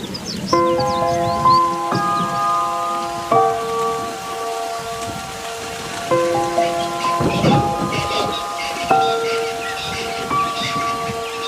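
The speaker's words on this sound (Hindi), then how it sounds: "काफी देर से आई बारिश ने आखिरकार राहत पहुंचाई है" Steady rain patters over a soft music bed in Hluhluwe–iMfolozi Park, South Africa, with a low rumble of thunder rising midway; the downpour is continuous and fairly close.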